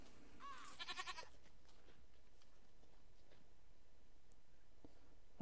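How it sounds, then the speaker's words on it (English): A goat in a Minecraft game, heard in a modded survival world, lets out one short, wavering bleat near the start, followed by faint, quiet background ambience. "Shut your face, goat!"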